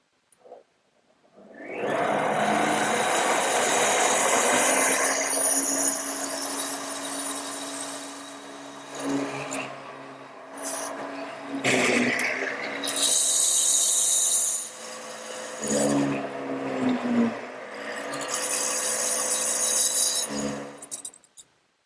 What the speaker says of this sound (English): I've also set the depth of the drill press so that I end up with about a 3/4 inch deep mortise